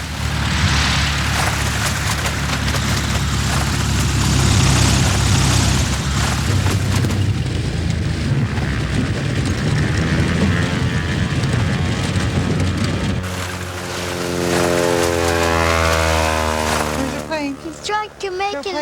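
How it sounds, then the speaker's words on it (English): A propeller-driven ski plane flying low over snow in Alaska, a loud continuous engine drone with rushing noise that shifts in pitch as the aircraft passes close by, then fades away. "So I drag the skis through the snow many times, making tracks, packing the snow"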